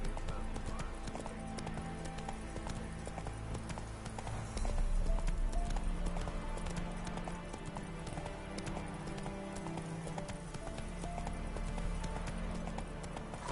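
Horse hooves clip-clop steadily as the mount Roach is ridden in The Witcher video game, a repeated rhythmic trot over ambient game music and background sound, with a brief louder swell midway.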